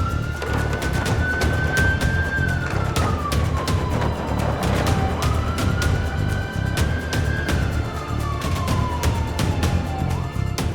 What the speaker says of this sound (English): put on the blue light and the sirens